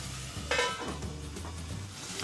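Tomatoes and onions sauté in a covered pan, a steady close sizzle and hiss running throughout with a brief brighter burst of frying noise partway through.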